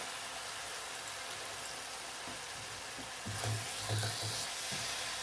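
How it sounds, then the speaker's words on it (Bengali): Chicken mince fries in a spice masala with a continuous close sizzle, and a few low scraping stirs break in toward the end. "এখন আমি এর মধ্যে দিয়ে দিচ্ছি চিকেন কিমাটা"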